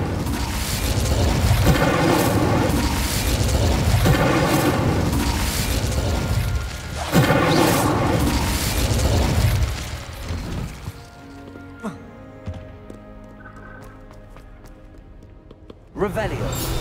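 Incendio fire spells in the Hogwarts Legacy video game blast out as loud booming bursts, two or three heavy whooshing hits in a row, then quieter clicks and a final pop; game music and effects fill the background.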